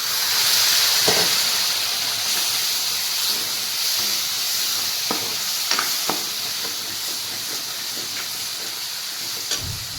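Water hits a pan of frying drumstick bhaji, raising a continuous broad steamy hiss that holds loud throughout, broken by occasional utensil taps and clicks.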